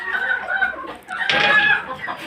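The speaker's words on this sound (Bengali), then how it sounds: "এই মুরগিটাও নতুন নিয়ে আসছি" A hen clucks on a small home farm with laying chickens, giving a run of short, fairly close calls that pause briefly and then return louder and denser.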